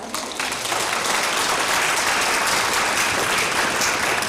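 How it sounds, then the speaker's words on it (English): Parents at a youth honor orchestra concert clap in a dense, even burst of applause that begins abruptly and holds steady to the end, fairly close and loud. "Parents, give yourselves a round of applause."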